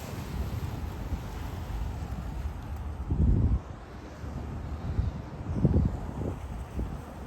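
Sea waves wash against the seaside at Salmiya, Kuwait, on a hot day, heard as a steady low roar with wind buffeting the microphone and two heavier surges swelling up midway and near the end.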